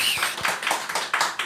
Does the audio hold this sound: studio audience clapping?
yes